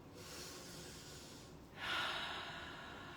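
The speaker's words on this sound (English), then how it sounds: "Breathe in." A slow, breathy inhalation during a qi gong session, soft and close, rising into a fuller airy rush partway through, with no talking.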